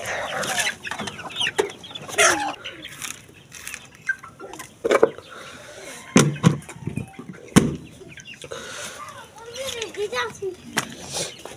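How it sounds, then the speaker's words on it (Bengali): Hens on a small home farm, a mix of broiler and striped hens, cluck in short, irregular bursts close by while people talk over them. "এই হচ্ছে আমার ফার্মি, আর 5টা টাইগার মুরগি আছে, আর বাকিগুলা ফার্মি মুরগি"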